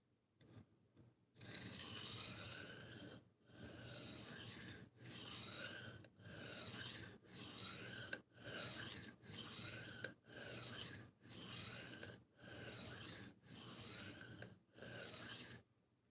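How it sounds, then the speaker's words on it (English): A knife blade drawn by hand across a sharpening stone in about a dozen steady, even rasping strokes, each stroke a clear scrape separated by brief pauses, close and alone with no talking. "I'm sharpening with one hand"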